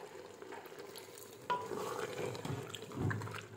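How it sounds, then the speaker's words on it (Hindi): Black chickpeas frying in cooking oil in an opened pressure cooker, stirred with a utensil; a faint, steady sizzle runs throughout, with soft scraping and stirring noises. "तो इनको अच्छे से हम भून लेंगे।"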